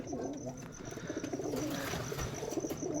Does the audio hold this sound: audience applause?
no